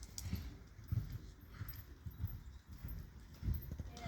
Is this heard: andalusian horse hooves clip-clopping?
yes